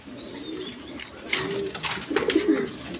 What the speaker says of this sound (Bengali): একদম কোয়ালিটি সম্পন্ন কবুতর একদম বিগ সাইজের কবুতর